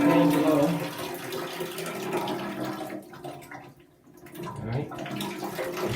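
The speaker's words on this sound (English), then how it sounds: "can hear the water coming out of my other line back this direction" Water runs steadily out of a plumbing line and into a pan below, a continuous rushing and splashing that dips briefly to a quieter trickle before picking back up.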